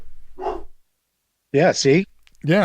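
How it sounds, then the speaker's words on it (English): A dog at home gives a few loud, close barks in quick succession, mixed with a person talking briefly. "that's my dog"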